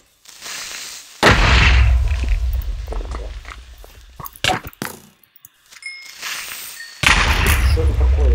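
Booming explosions burst in a Minecraft 1.12.2 vampire survival game, one loud blast early and another near the end, separated by scattered clanks and clicks.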